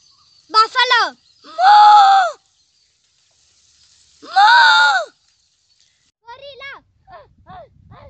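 A voice imitates a buffalo with two sustained, bleating moo-like calls, followed by a few faint, short trailing sounds.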